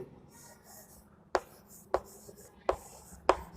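Four sharp, evenly spaced taps and strokes of writing on a board during a class 12 chemistry lesson, crisp and close, over a faint room hum with no talking.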